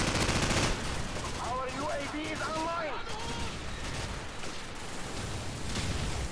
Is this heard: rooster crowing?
no